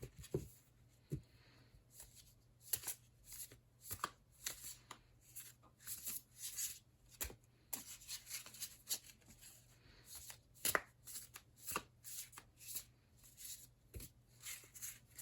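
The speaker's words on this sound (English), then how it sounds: "Want to start to shuffle these cards, start to get some reversals in there." A deck of tarot cards being shuffled by hand, soft papery riffles and sharp slaps in irregular bursts, close and quiet over a faint background hum, no voices.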